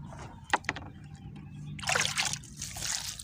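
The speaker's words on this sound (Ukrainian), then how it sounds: "Добавляю воду, гарно, гарно проливаю." Water pours and splashes steadily onto soil around tomato seedlings planted in open ground for a couple of seconds, close by, after a few soft clicks and handling noises.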